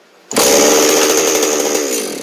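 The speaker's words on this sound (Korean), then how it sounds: "줄이 기장이 확실히 길어지니까 시동 걸 때 훨씬 더 자연스러워요" A Genoa G5201 chainsaw fitted with a new starter rope catches after a short quiet moment and bursts into a loud, steady, close engine roar that eases slightly toward the end.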